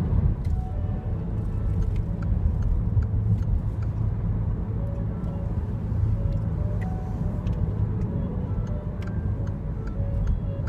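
Peugeot 308SW estate cruising at 80 km/h, with a steady low road rumble and engine drone filling the cabin throughout, plus faint light ticking on top.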